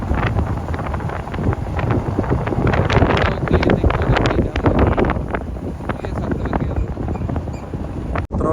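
Evening wind sweeps across a maize field, a loud, constant rushing roar with heavy gusting against the microphone and a brief dropout near the end.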